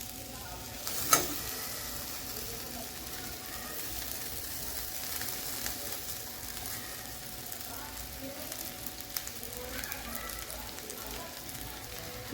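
Cooked rice being stirred into tawa pulao with fresh coriander in a hot pan, a soft steady sizzle with faint scraping throughout and one sharp clink near the start.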